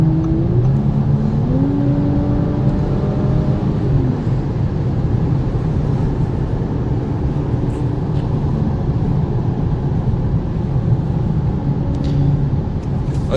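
A 2019 Audi S5 Sportback with a turbocharged V6 drives fast, its steady, loud engine and road roar filling the cabin with rising tonal whine from the drivetrain, continuous throughout with no talking.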